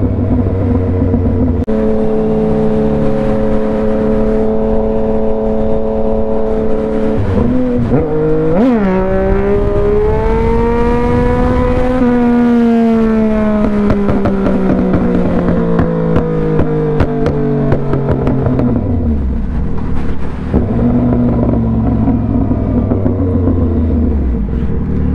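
A car accelerates hard beside a moving motorcycle on city streets, its engine note climbing and falling through repeated gear pulls over steady wind rumble, loud and close throughout.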